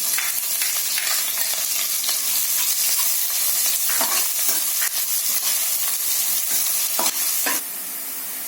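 Onion sizzles loudly in a hot pan over low-to-medium heat, a dense crackling hiss up close, with scattered stirring scrapes and clicks, before the sound abruptly thins near the end.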